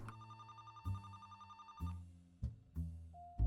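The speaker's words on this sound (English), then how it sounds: "Oh, I'm getting a phone call?" A landline telephone rings in a video game, with three repeated electronic ring bursts at an even pace, clear and close, and a brief higher tone near the end.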